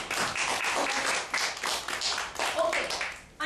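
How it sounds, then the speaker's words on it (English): An audience at a school education presentation claps steadily for a team, a dense patter of many hands sustained throughout and filling the room. "Let's clap for Fahim and his team."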